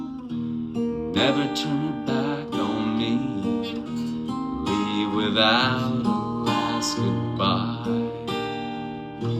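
Acoustic guitar plays a song slowly, strummed and picked chords ringing steadily under a man singing the lyrics.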